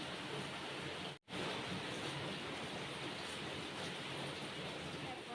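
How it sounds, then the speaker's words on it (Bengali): Heavy rain falling outside, a dense steady wash of broadband hiss that runs unbroken apart from one brief cut, moderately loud with no talk. "আমাদের এখানে খুব বৃষ্টি হচ্ছে"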